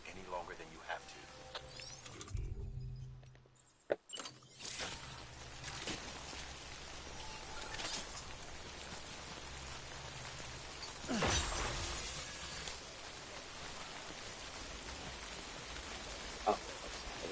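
Steady rain, the timefall of the video game Death Stranding, patters across the scene with light mechanical clicks and a brief sharp hit, with speech partly heard over it.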